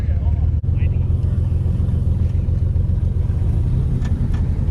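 A mini Jeep's engine drones low and steady while four-wheeling off-road, a close, continuous rumble that holds its pitch with little revving, and people talk over it.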